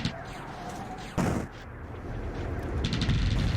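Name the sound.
base point defense weapons firing in video game Distant Worlds Universe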